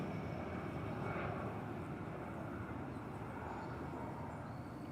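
Airliner, an Airbus A319, taking off from Toronto airport on runway 05, a steady broad engine roar heard from a distance, continuous and fairly even throughout.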